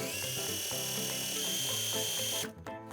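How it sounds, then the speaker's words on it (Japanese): A sewing machine runs steadily as it stitches around the triple-folded hem of a jumper-dress skirt, with a continuous close motor whir that stops abruptly near the end. "裾を三つ折りにしてぐるっとステッチをかけて留めていきます。"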